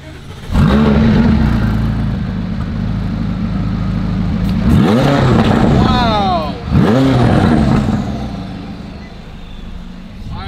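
A McLaren Sport Series supercar fires up and is revved hard, its engine note climbing and falling in two sharp blips after a loud start, close and dominant with a sustained idle rumble underneath.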